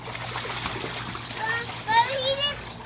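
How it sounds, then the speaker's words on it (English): A child splashes water in a backyard swimming pool during summer, a few short splashes standing out over steady water noise, with children's voices talking nearby. "But he just splashed me."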